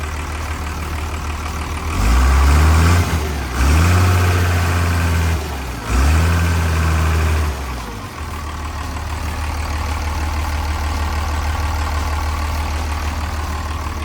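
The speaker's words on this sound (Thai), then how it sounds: "6D102 เนี่ยก็จะเป็นเครื่องยนต์ 6 สูบเทอร์โบนะครับ" A Komatsu WA250-3 wheel loader's 6D102 six-cylinder turbo diesel engine idles steadily with a deep, low rumble, briefly rising in a few surges before settling back to an even idle.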